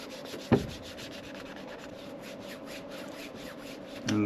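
A shoe being buffed to a mirror shine with polish, producing a quiet, steady rubbing and brushing texture with a brief louder scuff near the start and another at the end.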